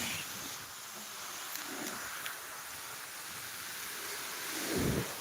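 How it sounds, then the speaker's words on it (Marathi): Steady broadband heavy monsoon rain fills the scene, fairly distant and even, with a brief low rumble near the end, in Deulgaon Raja. "पहिल्यांदा पावसाची दमदार हजेरी"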